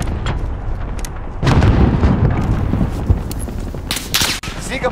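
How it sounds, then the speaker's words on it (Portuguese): A grenade explodes in Call of Duty Warzone, a loud close boom with a rumbling tail, followed by sharp gunfire cracks in the background. "Granada lançada!"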